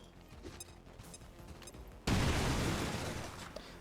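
Grenade detonation in the XCOM 2 strategy game, a sudden loud blast at the midpoint that cuts through quieter game ambience and then rumbles on with a dense, sustained roar to the end.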